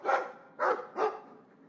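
A Mabari war dog from the Dragon Age 2 video game gives three loud, close barks in quick succession, followed by a faint tail of sound. No other sound competes with the barks.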